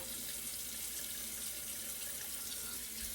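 A tap runs in a steady, unbroken hiss of water pouring into a sink for a few seconds, close and fairly quiet, with no talking.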